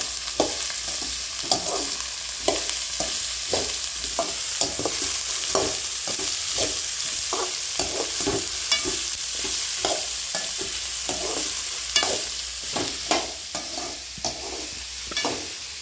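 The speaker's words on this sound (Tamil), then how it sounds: "பாவக்காய் போட்டுக்கலாம். இது நல்லா வதங்கணும்." Sliced bitter gourd sautés with softened onions in a pan, a continuous frying sizzle broken by frequent scraping stir strokes, close and steady.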